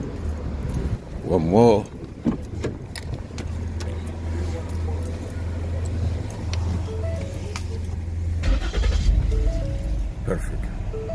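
A 2008–2013 Ford Edge engine cranks with a short whirring starter burst, catches and settles into a steady low idle, with a brief rev near the end; someone speaks briefly over it.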